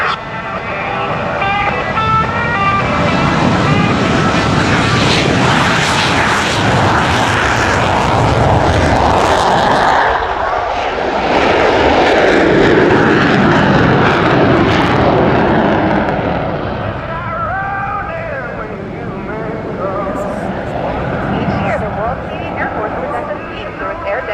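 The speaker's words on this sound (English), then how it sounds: "Let's watch and listen as Captain Kutryk lights the afterburners and demonstrates the awesome maneuverability and power of the CF-18 with the impressive takeoff and dirty roll." A CF-18 fighter jet lights its afterburners for takeoff and a dirty roll at a 2017 twilight airshow in London, a loud, sustained roaring jet blast that swells and fades over about twenty seconds with no speech over it.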